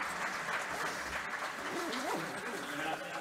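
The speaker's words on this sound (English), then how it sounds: "a round of applause for Wesley" An audience at a technical tutorial on IPv6 applauds for Wesley, a continuous bed of clapping with a voice speaking faintly beneath it throughout.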